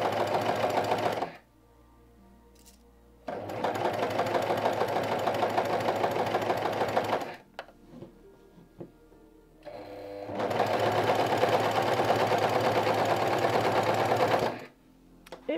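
A sewing machine stitches fabric for a sweater in three long, steady bursts of rapid mechanical whirring and clatter. The bursts are separated by short quiet gaps with faint handling noises, and the sound is close and moderately loud.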